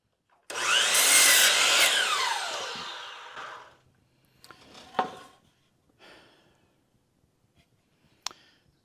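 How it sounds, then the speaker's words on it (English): A chop saw cuts through wood for a tiny house build: a loud whining burst as the blade bites for about three seconds, then the motor winds down, followed by a few scattered knocks and clatters of handling. "So now we'll go over and cut them on the chop saw."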